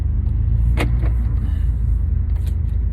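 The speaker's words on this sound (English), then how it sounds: "I'm going to take you out for a little drive in the car now" Mercedes-AMG A45 from 2020 setting off on a drive, a steady low engine and road rumble inside the car with a brief whirring click near the start, no talk.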